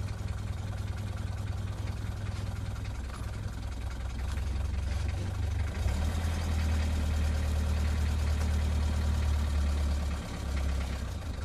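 A 1972 Mercedes W115 diesel engine idles steadily with a low, constant rumble, rising slightly in level partway through as if nudged faster, with no talk over it.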